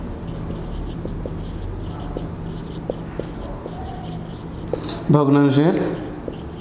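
Marker or chalk writing on a classroom board, a steady close scratching with short tapping strokes, followed by a voice speaking.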